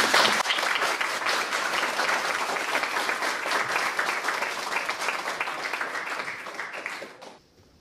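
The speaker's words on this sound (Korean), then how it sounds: "여러분 좀 큰 박수로" Full audience applause at a Korean lecture event, a dense, steady roar of many hands clapping together for about seven seconds before quickly dying away into near silence.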